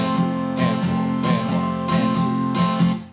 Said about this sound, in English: But shuffled 8th notes sound like this.